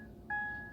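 Clear, steady electronic warning tones sound inside a Jeep Renegade idling in neutral with the handbrake on, a sustained beep over the low engine hum.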